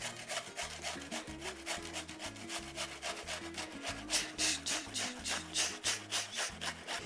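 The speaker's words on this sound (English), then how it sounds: "because I'm gonna grate this down" An onion being grated on a small grater in a home kitchen, a steady run of rhythmic rasping strokes, close and fairly quiet, each back-and-forth scrape distinct, with no talking.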